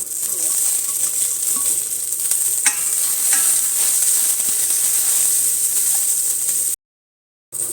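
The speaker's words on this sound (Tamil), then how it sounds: "இப்போ இது கொஞ்சம் வெங்காயம் வதங்கிடுச்சு" Onion, curry leaves and green chili fry in a pan for tomato rasam, giving a steady, close sizzle with scattered stirring scrapes and clicks, then a brief drop to silence near the end.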